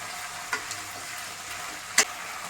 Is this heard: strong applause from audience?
no